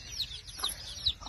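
A hen clucks softly among a small brood of newly hatched chicks, with a few short, close clucks and faint peeping. The sounds are quiet and there is no talk.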